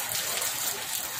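Rain pours down on a crowd gathered outdoors at a political rally in West Sumatra, a steady close hiss of falling drops with no pause and no clear voices.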